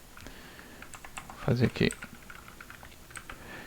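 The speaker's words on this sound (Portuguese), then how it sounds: "imagina que eu estou digitando" Quick bursts of typing on a computer keyboard while editing in vim, a handful of soft clicks with a brief dense flurry in the middle, close and fairly quiet, with a voice speaking over it.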